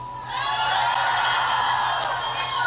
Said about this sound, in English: Greta Thunberg electrified the crowd downtown as they rallied for a new world order on the environment.